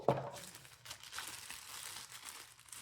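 A new tripod being unboxed, with a sharp rustle of packaging at the start followed by steady, close crinkling and crumpling of plastic or paper wrap.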